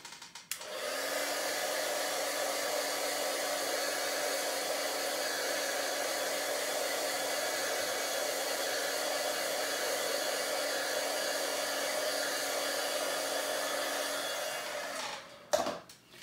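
A heat tool blows steadily to dry oxide ink on a stamped craft background, making a constant airy whir that runs for about fourteen seconds at moderate loudness before clicking off.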